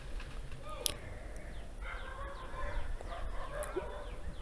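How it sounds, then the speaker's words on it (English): Several dogs barking outdoors, heard faint and distant in a few scattered bursts through a closed room, with quiet background noise between them. "Dogs are barking outside."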